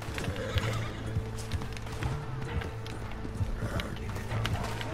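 A horse in the Red Dead Online video game whinnies while hooves clop in an uneven trot, game sounds fairly loud and close with no voices.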